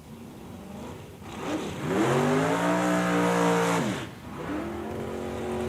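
Drag racing car at Eddyville Raceway doing a burnout, engine revving up into a strained, rising tonal howl held for about two seconds, then dropping back to a steady idle rumble.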